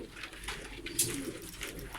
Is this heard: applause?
no